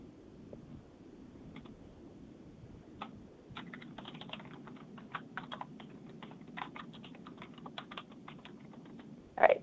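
Someone types an email address on a computer keyboard, a run of quick light clicks close to the mic, uneven in rhythm, over a low steady hum, ending in one louder keystroke.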